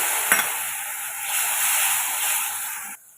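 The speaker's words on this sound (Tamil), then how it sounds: "இதில் கொஞ்சமாக ஒரு கால் கிளாஸ் அளவுக்கு நம்ம தண்ணி சேர்த்து வதக்கிக்கலாம்" Steady sizzling hiss of spice masala for egg keema frying in a pan, close and continuous, with a brief clatter near the start before cutting off abruptly.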